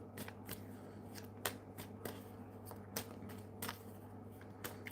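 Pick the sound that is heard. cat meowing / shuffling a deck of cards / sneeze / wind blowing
shuffling a deck of cards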